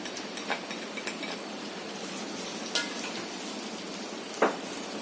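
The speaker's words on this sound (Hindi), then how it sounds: "अब हम इसमें ये प्याज डालेंगे और इसे हम बिल्कुल" Onions fry in oil in a pan, giving a soft, steady sizzle with a few faint clinks of a utensil against the pan.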